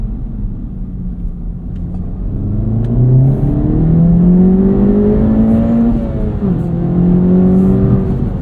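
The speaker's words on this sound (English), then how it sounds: "Sport mode almost seems like engine sound is completely natural." A 2024 Acura Integra Type S engine in sport mode drones loud and close, rising in a steady climb through the revs, dipping briefly at a shift, then pulling upward again.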